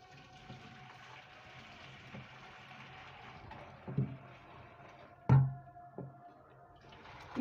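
Water from boiled beef tripe is poured off in a kitchen, a soft continuous trickle and splash with a couple of louder sloshes and a clunk of the pot near the end.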